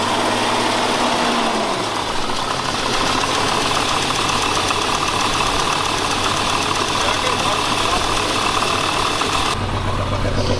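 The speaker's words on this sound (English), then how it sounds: "We got a pretty good misfire, but maybe it'll clear up." A Jeep XJ engine runs with a misfire, rumbling loud and close with an uneven, knocking idle that holds steady throughout, and its pitch shifts slightly early on.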